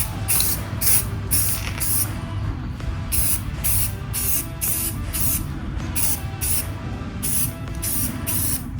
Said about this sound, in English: So let's wait a second, and we'll give it a spray.